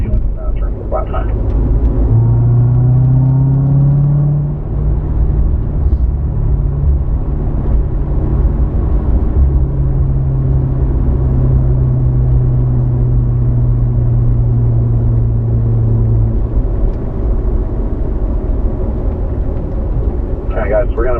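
A Corvette at a performance driving school carries speed through a series of S-bend track corners, its engine droning loud and steady with a long sustained tone that shifts in pitch, alone with no talk.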